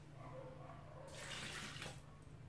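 Whole milk poured into a blender cup holding corn kernels, a faint liquid splashing and gurgling for about a second over a quiet, humming kitchen background.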